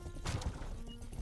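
A brief burst of rhythmic hoofbeats from a video game horse breaking into a canter, with a soft whinny-like tone over steady background noise.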